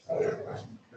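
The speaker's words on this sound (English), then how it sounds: "Sorry, my dogs are playing there in the background." Dogs playing indoors give soft whimpers and yips, a short continuous burst of canine vocalising at moderate level, heard in the background.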